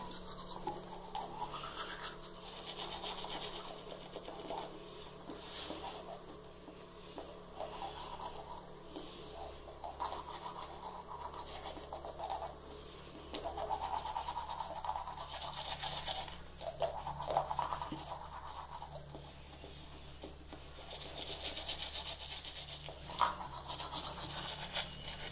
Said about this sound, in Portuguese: escovar meu dente